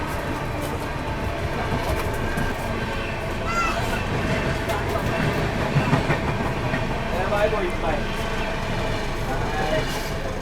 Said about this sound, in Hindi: ये निकल गया आप लोगों की हज़रत निज़ामुद्दीन खजुराहो वंदे भारत एक्सप्रेस